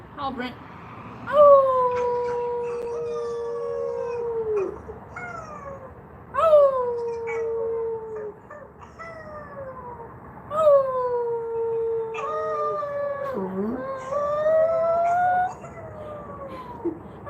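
A pet dog named Gordo howls in long rising and falling wails, several drawn-out calls close by, mixed with a person's coaxing voice that also howls along in imitation.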